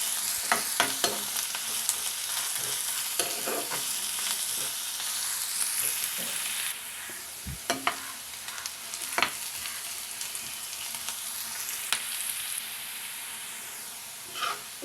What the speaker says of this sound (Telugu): ఈ ఉల్లిపాయ ముక్కలు బ్రౌన్ కలర్ వచ్చేంత వరకు వేయించుకుందాం.